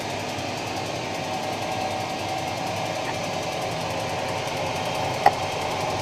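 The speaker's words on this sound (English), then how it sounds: "That's max speed on the lathe." A metal lathe spinning at maximum speed in a home workshop during a BMW E31 840Ci electric conversion, a steady, even machine whine and hum with one brief tick near the end, no talking.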